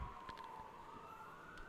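Emergency siren in the Hartford city background near Main Street, a faint steady wail drifting slightly upward under ballpark ambience at an American Legion baseball game, distant and continuous.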